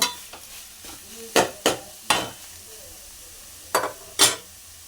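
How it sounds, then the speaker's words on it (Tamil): A spoon stirs coconut masala into spinach rasam over a low flame, producing several sharp scraping strokes against the pot with a faint sizzle between them, no talk. "போட்டு ஒரு 2 நிமிஷம் நல்லா கிளறி விட்டுடலாம்."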